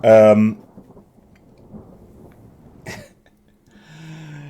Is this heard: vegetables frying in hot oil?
no